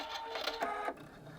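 A sewing machine makes a few quick stitches on a blind hem, a short, close, faint mechanical chatter lasting about a second.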